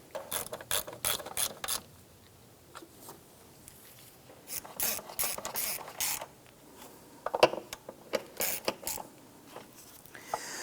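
Ratchet snugging down valve cover bolts on a 2007-2012 Nissan Versa, with repeated bursts of quick clicking strokes and pauses between them, close and clear.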